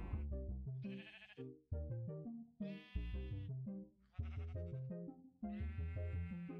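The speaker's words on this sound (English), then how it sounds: "Sheep." Sheep bleating several times in a row, loud and close with long wavering cries and short gaps between them, alone without talk, heard in a Minesweeper game.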